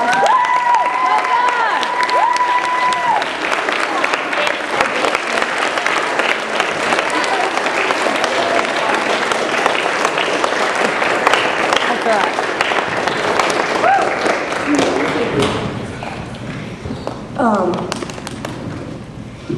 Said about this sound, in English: I want y'all to give a standing applause to God right now